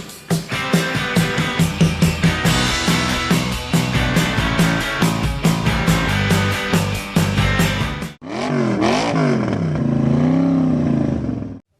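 Hot rod engine at a Somernites Cruise block party: a loud, lumpy, rhythmic running beat for about eight seconds, then a break and revs that rise and fall, with no talk.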